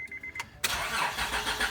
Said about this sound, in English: then try to start the car